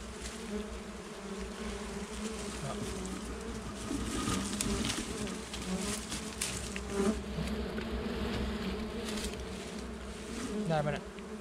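Bees from a large wild bee nest buzz in a steady, close, continuous drone, with faint bird coos in the background and no talking.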